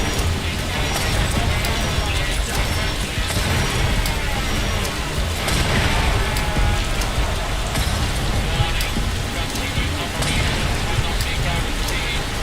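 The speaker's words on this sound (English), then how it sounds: "Oh great, the rain's not going to help." Steady rain pours loudly and densely in a Fallout London game scene, a constant hiss with faint clip-clop-like patter mixed in and no pauses.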